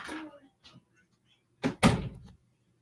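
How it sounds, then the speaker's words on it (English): A door closes with a solid thunk in a room, following a few earlier soft knocks and shuffles, and someone speaks briefly nearby. "Close my door behind you."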